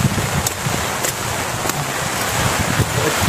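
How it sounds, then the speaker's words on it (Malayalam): Heavy rain with a light wind at a tribal heritage village in Wayanad, a steady dense broadband hiss that holds evenly throughout, with no talking. "നല്ല മഴ, ചെറുതായിട്ട് കാറ്റും ഉണ്ട്."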